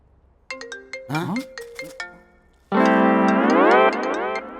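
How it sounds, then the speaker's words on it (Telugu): A mobile phone ringtone plays in a Telugu comedy movie scene, starting with short chiming tones and then going into a loud, sustained electronic melody. "అన్నయ్య ఫోన్ ఎక్కడ ఉన్నట్టుందేంట్రా?"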